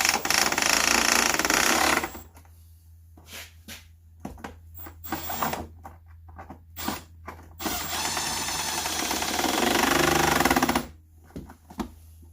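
Bottom bolts are driven into a Generac iX2000 generator during a pulse tube repair, with loud buzzing bursts from a power driver separated by quiet gaps and clicks, close and with no talk.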